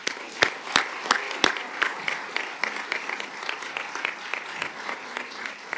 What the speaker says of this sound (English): Let's give Earhart one more round of applause.